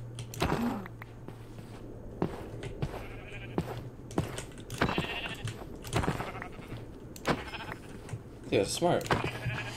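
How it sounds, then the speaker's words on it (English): Repeated sheep bleats from a video game, several short calls scattered across the stretch over a steady low hum, with people talking throughout. "Oh my god, rams, sheep."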